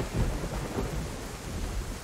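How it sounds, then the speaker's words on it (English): Steady heavy rain in the survival game DayZ, with low rolling thunder rumbling through a dense, continuous wash of downpour, fairly close and alone without any voices. "the fucking rain is bad."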